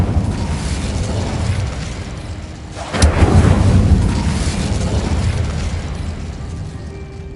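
Incendio fire spell cast in Hogwarts Legacy, a sudden whooshing burst of flame that erupts mid-clip over a steady rumbling game ambience, then trails off into a lingering crackling roar.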